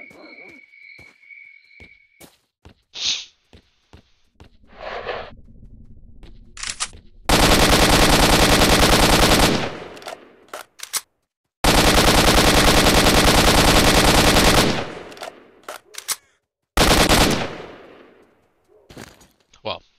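AK rifle fire in the video game S.T.A.L.K.E.R.: Shadow of Chernobyl, with two long, loud sustained automatic bursts of several seconds each, framed by sparser single shots and short clicks.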